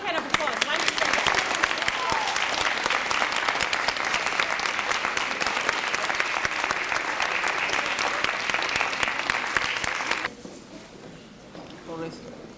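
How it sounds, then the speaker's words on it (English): Sustained, dense applause from a school assembly audience clapping for Mr. Torres, steady and loud for about ten seconds before cutting off abruptly into a quieter room. "a big hand of applause"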